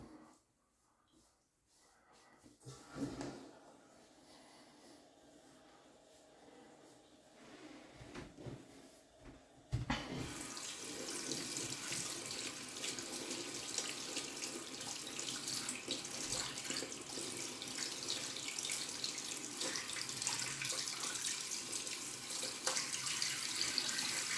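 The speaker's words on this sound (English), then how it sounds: "I'll wash my brush out because we're going to switch soaps." A brush is rinsed under a running tap into a sink. The first seconds are quieter with faint handling noises, then the water gushes on and flows steadily and loudly to the end.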